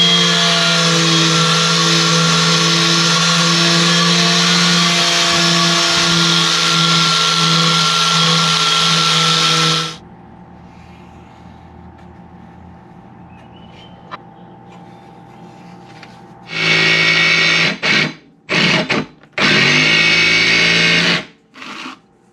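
A power tool cuts heavy-duty steel plate in loud, sustained bursts: a long steady whine for about ten seconds, a quiet pause, then several shorter choppy runs near the end.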